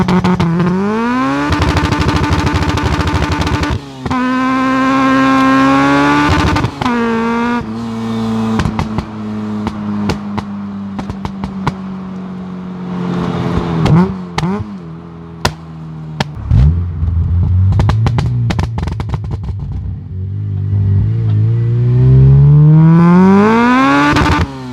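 A Honda Civic Type R EP3 with a VTEC engine is revved hard and bashed off the limiter. Loud, close revs climb and fall again and again, holding at the top in buzzing, stuttering bursts.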